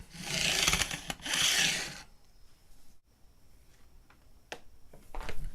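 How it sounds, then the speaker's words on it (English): A fret beveling file rasping across the fret ends of a black limba custom Strat guitar, with two loud scraping strokes followed by quieter handling and light scrapes. "we've gone over that with that fret beveling file"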